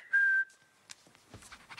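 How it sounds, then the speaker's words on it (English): A single sustained whistle, loud and steady, used as a command to a sheepdog, followed by faint shuffling and quiet background sounds. "Whistling as a way of talking to your dog."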